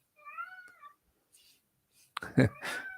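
A short, high meow sounds first, followed a moment later by a louder, rougher cry, both close and against near silence.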